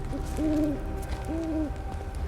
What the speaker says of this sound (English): There's a crazy pigeon making crazy sounds.